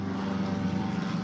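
An airplane flying overhead, a steady droning hum with a strong low engine tone that holds constant and moderately loud throughout the short moment, no voices.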